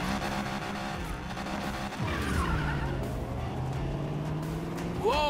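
A heavily tuned car producing around 1500 horsepower in Need for Speed Payback, its engine roaring and revving with pitch sweeps and tire squeals throughout, and a sharp rev climb at the end.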